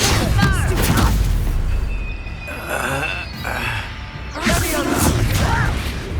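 Booming fire-spell blasts and explosive rumbles from the Confringo spell in the video game Hogwarts Legacy, dense and continuous with layered combat effects and character shouts throughout.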